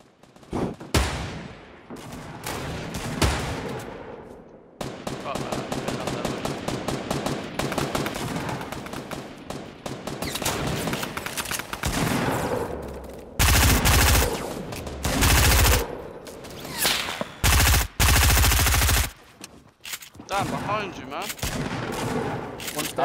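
Heavy video game gunfire: long stretches of rapid automatic bursts and booming shots, loud and close, with brief quiet gaps between volleys and a few very intense blasts partway through.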